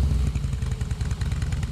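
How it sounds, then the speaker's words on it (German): A loud, close Harley-Davidson motorcycle with an illegally modified exhaust runs with the exhaust flap open, giving a deep, throbbing, uneven potato-like rumble that stays steady with no speech over it. "Der Unterschied von offener und geschlossener Klappe ist deutlich hörbar."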